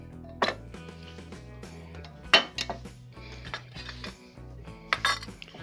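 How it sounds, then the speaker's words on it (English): Pieces of a camping cook kit clinking, with a metal pan set down and settling on a small camp stove, a few distinct close metallic knocks and rattles spaced out over several seconds. "Pan can be sat on the stove."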